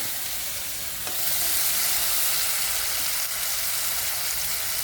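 Tomatoes, soaked dal and peanuts sauté in hot oil, giving a loud, continuous sizzle that swells slightly as they are stirred, with no voices over it.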